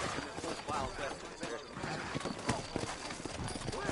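Hooves clop steadily amid a dense, busy video game mix, with someone talking over the rhythmic hoofbeats and a horse snorting.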